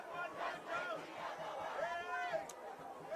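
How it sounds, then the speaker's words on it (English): Ugandan fans cheer for Kenya's sevens side at a rugby sevens cup final in Harare, a close, swelling mass of shouting and chanting voices with rising calls that hold steady throughout. "as you can hear from the crowd, those accents are not just Kenyans, they are Ugandan accents cheering on the Shujaa here in Harare"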